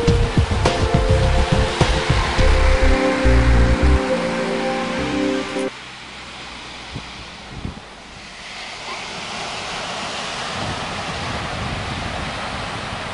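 Ocean surf rolls in at Conn Beach beside a boardwalk in Vero Beach, Florida, as a broad, steady wash with gusting wind noise, preceded by a louder tonal hum over the first few seconds.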